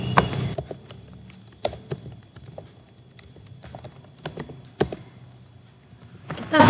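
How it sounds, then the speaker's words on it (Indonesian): Someone types a router command for an EIGRP configuration on a computer keyboard, producing scattered clicky keystrokes in uneven bursts with pauses, close to the microphone, ending in a quick flurry of taps. "kita ketik router"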